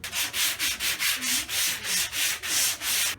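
Rhythmic hand block sanding of Bondo polyester body filler on a car quarter panel, steady back-and-forth strokes about every quarter second, close and fairly loud with no talking.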